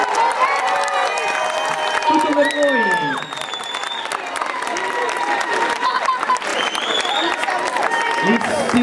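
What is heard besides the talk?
applause and cheering for the children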